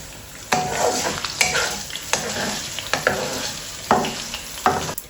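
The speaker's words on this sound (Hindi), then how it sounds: "लहसुन को मैं निकाल लूँगी क्योंकि ये हो गए हैं ब्राउन, तो फिर ज़्यादा ना जल जाए।" Garlic frying in a pan until brown, a continuous crackling sizzle with repeated scraping stirs at irregular intervals, close and moderately loud, with no voices.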